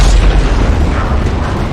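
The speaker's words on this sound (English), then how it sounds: "I just blew up a car, bro." A loud, deep boom rolls out as a car blows up amid fireworks in the video game Firework Mania, with a heavy low rumble that decays over about two seconds.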